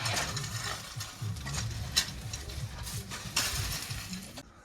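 A Wacker plate compactor pounding down stone, a steady mechanical rattle and low engine drone running continuously at close range, with a few sharper clanks standing out.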